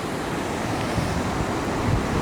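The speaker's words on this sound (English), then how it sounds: "Water is running underneath the buildings here." Steady broadband rush of water flowing beneath buildings near an abandoned subway tunnel in Rochester, New York, a continuous close wash with no talk over it.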